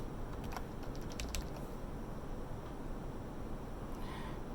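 Quick runs of key presses sound on a computer keyboard while someone types an admin email and password, in short bursts over a low steady room hum, with no voices.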